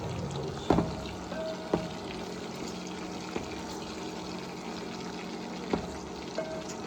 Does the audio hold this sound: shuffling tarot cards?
no